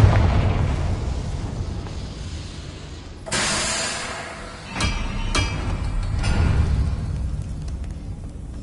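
Confringo spell explosions in the video game Hogwarts Legacy: a few sharp, bright blasts with booming tails, separated by a second or so, over a low rumbling game ambience.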